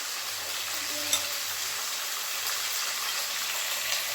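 Potatoes for poori masala sauté in a hot pan with a steady, even hiss and sizzle throughout, close and continuous, with one faint tap near the start and no talking.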